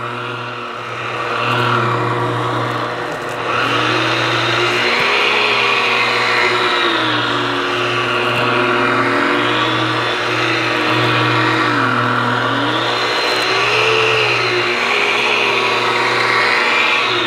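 A rotary polishing machine with a primed pad works compound into car paint to correct scratches and swirls, giving a steady loud whirring drone whose pitch wavers slightly as the speed and pressure shift.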